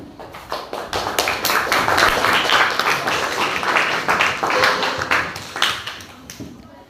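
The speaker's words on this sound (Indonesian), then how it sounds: "tepuk tangan dulu" A sixth-grade class claps for a pupil, a lively burst of many small hands mixed with scattered taps, rising, holding and then thinning out, with a teacher's voice audible in the background.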